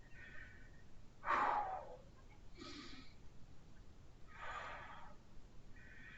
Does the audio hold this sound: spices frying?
no